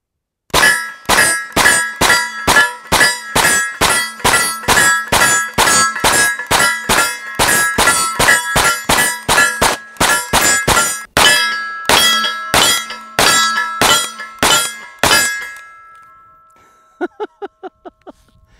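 Rapid string of sharp metallic clangs as .45 ACP pistol rounds strike a steel target, dozens of ringing hits in quick succession, then a pause and a few final fainter pings.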